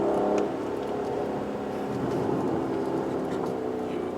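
Aston Martin DBS Superleggera V12 supercar driving, a steady, dense engine drone with road and wind noise throughout, loud and continuous with a slight drop after the first half second.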